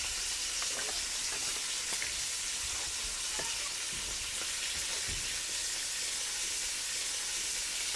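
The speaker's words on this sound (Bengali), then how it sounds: "এখানে মাছ ভাজা হচ্ছে" Fish fries in an LG multi cooker with a dense, continuous hiss and crackle, close up and steady throughout, with faint scattered pops and no voices.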